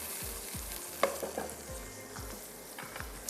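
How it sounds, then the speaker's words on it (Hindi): Ground cashew paste sizzles steadily as it fries in a pan, with a soft continuous hiss and occasional scraping stirs and low knocks from a spoon against the metal. "पिसे हुए काजू या फिर काजू का पेस्ट थोड़ा सा फ्राई होने देते हैं"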